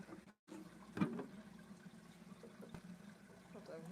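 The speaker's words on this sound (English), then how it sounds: "Let's just hold it up now. Pour it in here." Water is poured into a bag at an aquarium live sale, with a brief splash and a trickling, gurgling pour at low volume and faint voices in the background.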